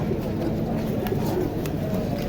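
Pigeons coo steadily in a low, murmuring chorus, close by at a Sunday bird market in Saddar, Karachi, with faint background noise and no talking.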